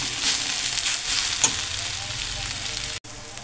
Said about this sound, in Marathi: असा कलर येईपर्यंत भाजून घ्यायचा तेलात